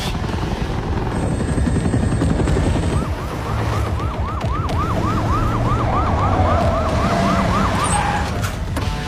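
An ambulance siren wails in a fast repeating whoop, mid-distance, over a loud steady engine or rotor rumble.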